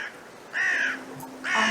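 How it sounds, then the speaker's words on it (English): Crows cawing outside, two loud harsh caws close by, with a faint softer call between them. "You can see crows just leaving."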